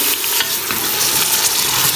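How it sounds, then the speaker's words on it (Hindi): Beef pieces frying in garlic and ginger paste for a Karachi-style chana dal, with a continuous loud sizzle and repeated scraping stirs close by, no talk. "तो 5 मिनट मैं गोश्त को फ्राई करूँगी।"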